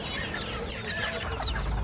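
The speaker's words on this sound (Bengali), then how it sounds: "একটি বাচ্চার সাথে কালো একটি দেশি মুরগি" Steady soft clucking from a black native hen with a chick amid a continuous noisy poultry market background, with no voices.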